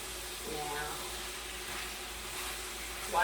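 Applewood bacon sizzles and fries in a pan on a stovetop, a steady soft crackle that holds throughout with a slightly louder burst at the very end.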